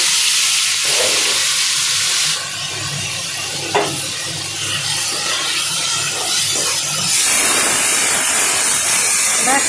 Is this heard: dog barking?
no